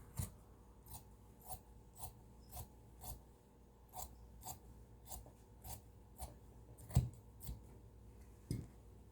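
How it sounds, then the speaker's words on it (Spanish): Scissors snip shirt fabric to shape a skirt, the blades closing in a steady series of about a dozen crisp cuts with soft rustling between them, close and fairly quiet. "y cortamos"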